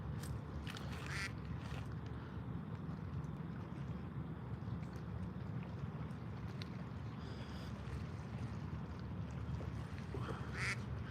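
Ducks quacking now and then over a steady broadband wash of outdoor water and wind noise, moderately distant.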